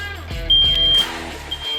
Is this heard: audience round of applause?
no